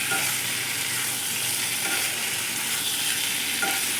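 Jackfruit sautéing in a pan, a steady close sizzle with occasional stirring scrapes, no voices present.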